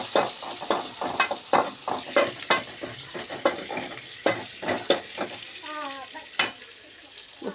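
A cabbage and carrot stir-fry with green chilli is tossed in a pan, a spatula scraping and clacking in quick, irregular strokes over a low sizzle, close and fairly quiet.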